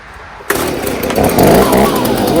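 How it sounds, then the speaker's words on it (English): A leaf blower starts abruptly and roars loud and close in a continuous, rough engine whine as it clears leaves off a lawn mower, with its pitch shifting slightly as it runs. "or you can take a leaf blower"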